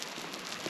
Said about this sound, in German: Und jetzt wäre das schon stärkerer Hagel.